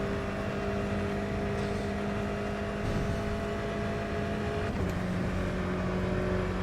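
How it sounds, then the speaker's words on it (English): An F3 race car circuits the track during a testing session, its engine droning steadily with a sustained tonal whine that shifts pitch slightly as it runs, loud and continuous with no talking. "Testing an F3 car, there you go"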